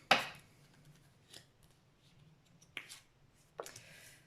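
A deck of tarot cards is cut with a few sharp, crisp riffles and snaps of card stock, three distinct brief bursts separated by near silence. The sound is close and quiet, with no talking.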